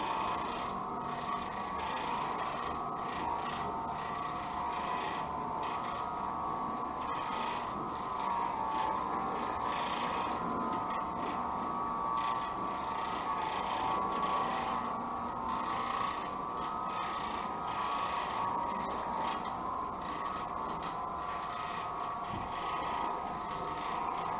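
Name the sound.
Oreck Orbiter floor machine cleaning residential carpet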